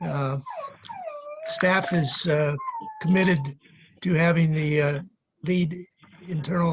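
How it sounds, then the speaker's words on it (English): A pet dog whines and moans in the background with a few rising, sliding cries, heard under a person speaking steadily in a meeting. "So that's my dog talking there in the background."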